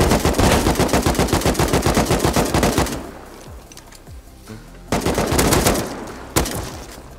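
Gunfire in the video game Rust crackles in rapid automatic bursts, loud and close. One long volley is followed by a lull, then further bursts and a few single shots.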